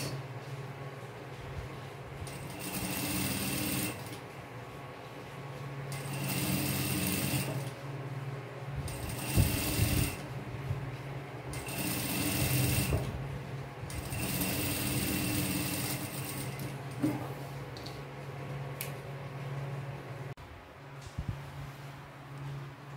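A sewing machine stitches a bell sleeve in fabric with a little elastane, running in several bursts of fast whirring and ticking separated by short pauses, with a steady low hum beneath.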